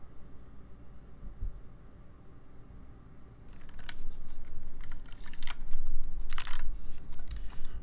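Keys clatter on a white tenkeyless mechanical keyboard with GMK Monochrome keycaps, quiet at first and then a fast, loud burst of close typing.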